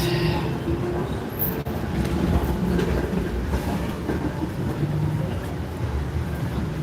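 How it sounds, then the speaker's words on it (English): A 511 streetcar rumbles steadily past at the corner of Queen and Bathurst Streets in downtown Toronto, a continuous loud rolling roar with faint rail clatter amid city street noise. "we see 511 streetcar going to Bathurst Street"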